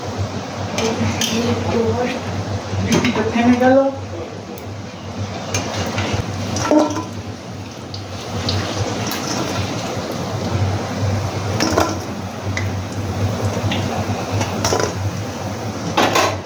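Jackfruit-seed dhoka pieces being turned over in a frying pan, a steady oily sizzle with light utensil scrapes and clinks throughout, and a faint voice briefly audible.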